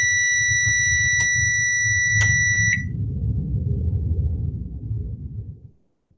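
A kitchen timer alarm beeps loudly, a piercing steady tone for nearly three seconds, then stops and leaves a low rumbling hum that fades out.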